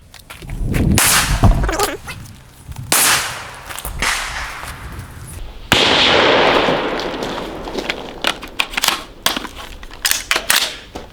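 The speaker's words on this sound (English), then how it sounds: "we'll run some rounds, make sure it still feeds" A rifle fires a string of rounds fed from a Lancer L5 magazine during a torture test, with sharp, irregularly spaced reports, some close together and others with short pauses, loud and up close with no talking.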